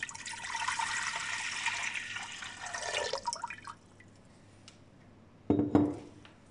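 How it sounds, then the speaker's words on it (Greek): Water pours into a deep pot in a kitchen, a loud rushing stream for about three seconds that tapers off, followed by a brief clink of metal near the end. "σε μία βαθιά κατσαρόλα, ρίχνω το νερό"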